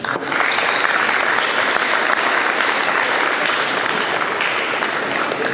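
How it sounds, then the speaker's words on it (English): A steady round of crowd applause at a boys' Western Region all-star basketball game, loud and continuous for several seconds with no voices over it. "So big round of applause."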